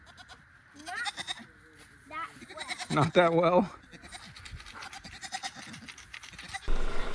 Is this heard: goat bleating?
yes